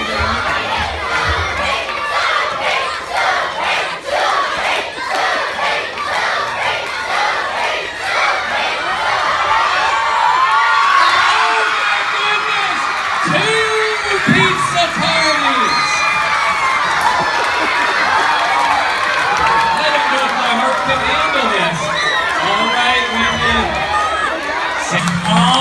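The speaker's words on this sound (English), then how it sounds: "Let's cheer on Supreme." A crowd of young children at a first-grade school assembly cheers and shouts loudly and continuously, with excited voices overlapping throughout.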